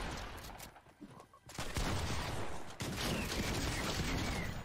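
Shotgun gunfire in the video game Fortnite, with a loud burst of dense, crackling shots around the middle and a near-continuous barrage of gunfire carrying through to the end, with no talk.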